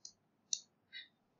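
Three quick, faint mouse clicks, sharp and close, tap out in a quiet room while confirming OK in a Microsoft Word dialog.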